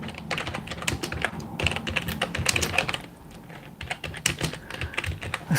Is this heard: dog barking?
no